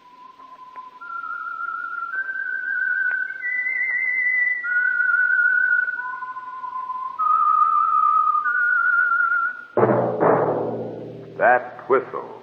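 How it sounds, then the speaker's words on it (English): A lone melodic whistle carries the Whistler theme tune on an old radio show, a slow wandering line of clear held notes, followed near the end by someone speaking. "the Whistler theme by the real Whistler will sound like this."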